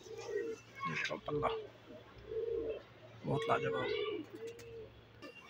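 A Khaira pigeon cooing up close, soft repeated throaty coos in a few short bursts, while someone speaks over and between them.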